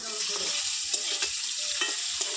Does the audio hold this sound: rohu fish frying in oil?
yes